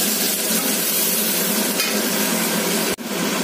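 Tomatoes fry with a little salt in a pan, giving a loud, continuous sizzle close by. A short scrape or knock cuts through near the end.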